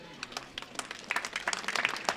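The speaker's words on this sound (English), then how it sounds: "Can you please join me in giving Her Excellency, the Vice President, a big round of applause" Crowd applause at the inauguration of an airline cargo facility at Banjul International Airport in the Gambia: faint scattered clapping that gradually swells into fuller, denser applause.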